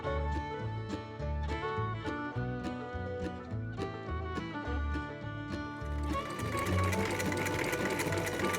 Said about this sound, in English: I think I'm gonna sit down behind the sewing machine with Chicky